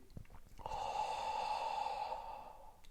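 A slow, deep inhalation taken as a breathing exercise makes a long, airy rushing breath that builds and holds for about two seconds before fading, close and moderately loud, with no talking.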